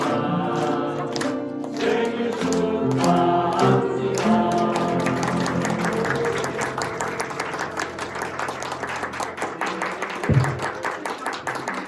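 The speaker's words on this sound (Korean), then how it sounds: "축하의 박수 한번" Applause rises from the audience at the cake cutting of a 30th anniversary ceremony for Jangan Community Welfare Center, a steady wash of many clapping hands lasting throughout at moderate loudness, with faint background music.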